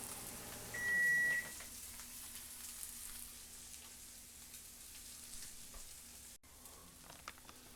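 A kitchen appliance gives a single short electronic beep early on to signal that the tilapia is cooked, heard over a faint background hiss and sizzle.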